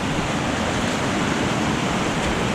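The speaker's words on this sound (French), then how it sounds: "Regardez-moi cette cascade." A waterfall in a mountain valley roars as a steady, dense broadband rush of falling water, loud and constant with no pauses and no voices over it.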